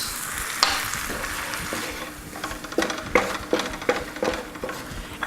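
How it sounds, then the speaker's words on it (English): Onions, celery, peppers and garlic sizzle and fry in a hot pan as a couple ounces of white wine go in, a steady crackling hiss broken by several sharp bursts of spattering and stirring, close and alone. "Hit it with a couple ounces of white wine."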